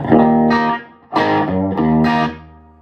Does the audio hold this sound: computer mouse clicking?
no